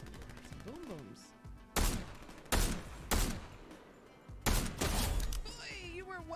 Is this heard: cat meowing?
no